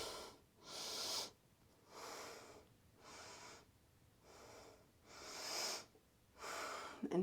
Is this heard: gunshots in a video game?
no